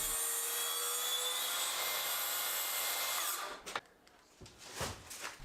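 A power tool trims a millimetre or two off the length of a birch plywood kitchen worktop, a loud steady whining cut for over three seconds, then it stops and a few knocks and scrapes follow.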